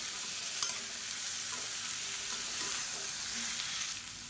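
Beans sauté in hot oil with salt in a home kitchen pan: a steady, close sizzle runs throughout, broken by the light clicks and scrapes of a spoon stirring.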